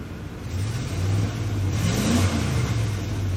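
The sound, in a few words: Ford F250 truck engine running and revving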